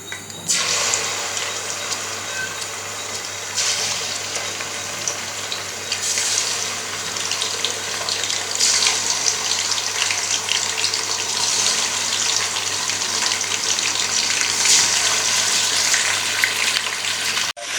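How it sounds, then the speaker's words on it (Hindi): Chicken pieces frying in hot cooking oil in a pot, a loud, steady, close sizzle that continues throughout after a sudden start, with occasional small clinks, no speech. "तो अभी मैं इसमें एक एक करके सारा चिकन ऐड करूँगी।"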